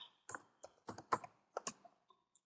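Quiet, close typing on a computer keyboard: a couple of dozen crisp key clicks in short irregular bursts with brief pauses, no talk.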